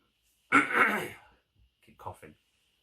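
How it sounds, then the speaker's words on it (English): One man clears his throat close to the microphone with a harsh, rasping burst, then gives a second, shorter and quieter clearing a moment later, with silence around them. "Trying to clear my throat."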